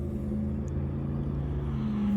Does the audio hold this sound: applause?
no